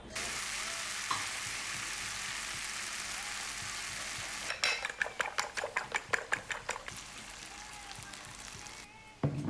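An egg frying for breakfast, a steady close sizzle of hot oil running throughout, with a burst of rhythmic scraping or tapping in the pan partway through.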